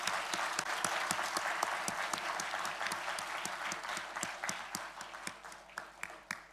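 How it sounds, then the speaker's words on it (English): An audience at a university event applauds for several seconds. The sound is a soft, steady patter that is fairly distant and quiet, thinning toward the end into a few separate, sharper claps. "So on that note, they deserve a round of applause."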